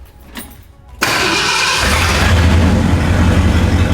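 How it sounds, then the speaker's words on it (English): A 1971 Ford F-250 truck engine cranks briefly and then catches, roaring to life and holding a loud, steady rev with a deep rumble, close by, with no talking. "I'm about to fire this truck up, and this thing actually really impressed me with how quickly it starts"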